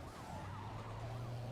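Police car sirens wail in a Need for Speed Carbon chase, a steady rising and falling tone running throughout over a low continuous engine drone.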